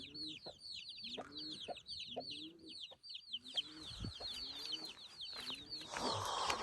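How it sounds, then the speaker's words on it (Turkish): A crowd of chicks cheeps nonstop in rapid, high-pitched peeps, with lower hen-like clucks sounding underneath. "Civcivcikler ne yapıyorsunuz? Bakın küçük civcivlere."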